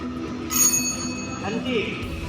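A small hand bell rings sharply once during a school quiz competition at Navodaya Vidyalaya in Bahraich, a bright metallic ding heard under a teacher's voice giving instructions.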